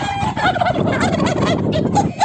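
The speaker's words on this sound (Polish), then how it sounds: "Są dwa indory, tam widać dwie indyczki." Two male turkeys gobble in rapid, rattling bursts, loud and close, filling the short stretch without talk.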